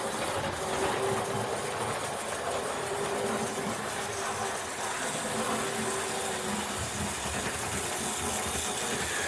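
Hornby model steam locomotive, a Castle Class type, running steadily around its track, giving a continuous close hiss and rumble with a faint rail clatter and no talk over it.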